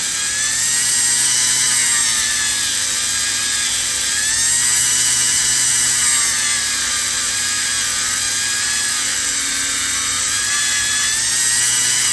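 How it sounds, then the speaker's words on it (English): A Dremel rotary tool running at low speed carves the band of a wax ring model, giving a steady, continuous high whine with a slight waver, close up and alone throughout. "Hopefully you guys noticed too that the Dremel's really not on very high."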